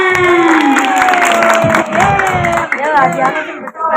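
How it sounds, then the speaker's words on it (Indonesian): Children clapping and cheering at a Ramadan storytelling session in a small prayer hall, loud and close, with excited shouting voices over the clapping. "Nah, benar, tepuk tangan."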